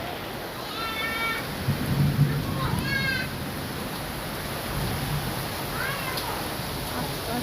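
Several cats meowing repeatedly, near and clear, over the steady wash of heavy monsoon rain in Dhaka with a low rumble of thunder.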